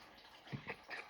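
Water drains out of a domestic radiator, giving a faint, close trickle and gurgle with a few small splashes, and no talking.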